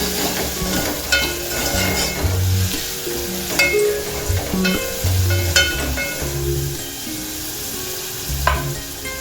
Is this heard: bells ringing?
no